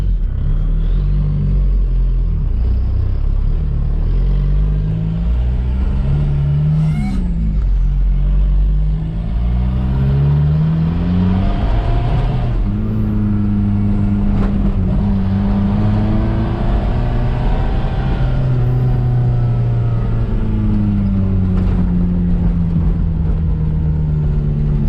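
A TDI diesel-swapped Toyota truck with independent front suspension runs along logging roads. Its engine drones loud and continuous up close, rising and falling as the driver works through the gears, with road rumble underneath.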